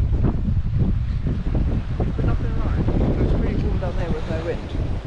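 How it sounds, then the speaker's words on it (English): Strong wind by the sea on the Devon coast buffets the microphone in a continuous loud roar, with surf and waves churning underneath and faint voices mixed in. "Pretty windy."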